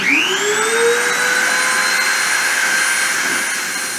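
A machine spindle spins up and runs steadily, a loud continuous whine with tones that rise as it reaches speed and then hold steady without a break.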